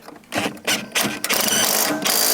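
A ratchet wrench tightening the exhaust bolt on a Can-Am Outlander through a trunk access spot, giving a few short bursts of clicking followed by a sustained run of rapid ratcheting, close and fairly loud.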